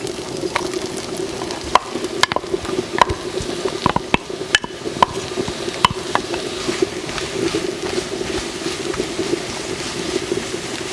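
Mushrooms cooking in melted butter in a pan, giving a steady low sizzle with scattered clicks and scrapes from stirring, close by and with no talking.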